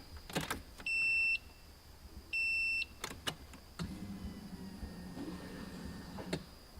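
A low electric hum of an in-tank fuel pump priming in an S14 whirs in the back half, preceded by a few clicks and two short electronic beeps, fairly quiet overall.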